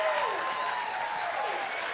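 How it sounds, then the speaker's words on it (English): Applause from a live improv comedy show audience, steady and moderately loud for the full length, with a voice speaking over it and a faint sustained music tone in the background. "Please keep that applause going for our incredible technical improvisers and camera team"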